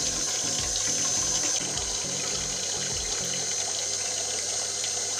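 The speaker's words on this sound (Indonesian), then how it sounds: "Kita buang dulu airnya." Steady, continuous rush of water poured out of a refill drinking-water filter containing activated carbon, a full, unbroken splashing flow throughout.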